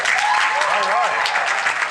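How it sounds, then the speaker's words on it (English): A studio audience applauds a panel at the close of an education talk show, dense continuous clapping heard close and loud, with a voice talking over it. "Let's give a round of applause to our panel"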